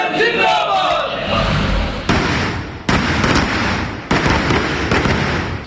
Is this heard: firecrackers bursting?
yes